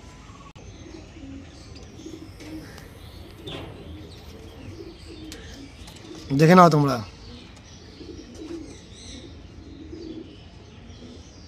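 Andhra pigeons coo quietly in a loft while someone talks over them, with one louder burst of calling midway through.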